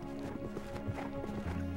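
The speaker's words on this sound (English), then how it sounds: "You can hear the horses, you can hear the breathing, you can hear them riding by." Horses pass by at a Civil War battlefield park, muffled hooves clopping in an irregular rhythm over a low hum, faint and somewhat distant.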